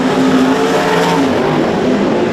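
Super Rod race cars roar around a circuit at Mount Gambier during a racing main event, engines loud and continuous with shifting pitch as the cars jostle for position, no voices over them.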